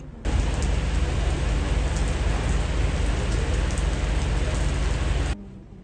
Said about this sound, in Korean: 근데 비가 너무 많이 와.